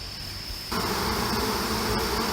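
Honey bees buzz at a hive of package bees about 45 days old. The steady droning hum swells louder partway through and carries on close and continuous.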